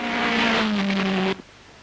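A Vanwall race car driven by Tony Brooks passing by at the 1958 European Grand Prix: a loud, buzzing engine note with a slightly falling pitch over a broad roar of noise, cutting off abruptly after about a second and a half.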